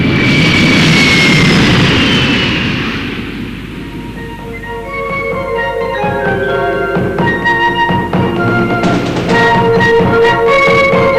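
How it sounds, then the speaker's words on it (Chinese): A jet airliner lands at San Francisco after a long flight from Beijing, its loud broadband engine roar building and then easing, with high whining tones sliding down before a settled hum and scattered tonal whines as it rolls out. "飞机从东半球的北京，经过13个小时的飞行，在西半球的旧金山降落了"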